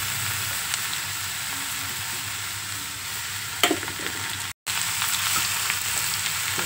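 Bottle gourd pieces frying in a pan with curry leaves, a steady hiss of sizzling oil with a brief clatter and a short break partway through.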